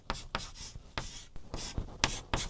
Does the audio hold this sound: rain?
no